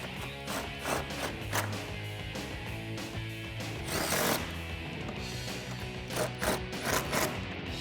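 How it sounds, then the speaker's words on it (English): A socket wrench with extension tightening 10mm headlight bolts on a 2015-2017 Ford F150, with repeated quick ratcheting clicks and metallic clatter in short bursts, close up over a low background hum. "Grab your 10mm socket and extension and tighten those down."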